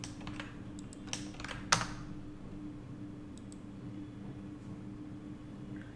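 Keys clatter on a computer keyboard in a short burst of quick clicks, then fall quiet under a steady low hum.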